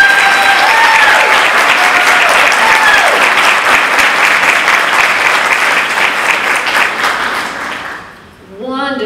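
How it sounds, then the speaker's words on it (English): Loud, sustained applause from a large theatre audience after a monologue performance fills the room, clapping steadily for several seconds before fading out abruptly near the end. "Let's give these folks a round of applause."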